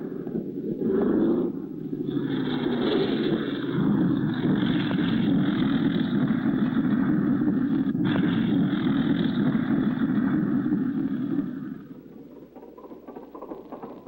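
A seaplane taxiing on water: a steady engine drone with rushing wind and water noise runs for about twelve seconds, then drops to a quieter idle near the end.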